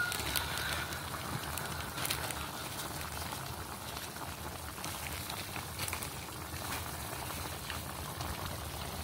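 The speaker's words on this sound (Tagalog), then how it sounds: "takpan muna natin at pabayaan lang po natin kumulo" Steady bubbling and simmering from a pot of turkey caldereta stew, a continuous soft boiling hiss with no talking.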